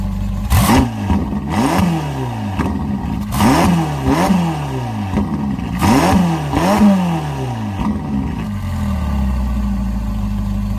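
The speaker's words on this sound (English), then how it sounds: "Let's hear how good it sounds." A Ferrari sports car engine, warmed up, revs repeatedly, each throttle blip rising and falling in a rhythmic series, loud and close, before settling into a deep idle.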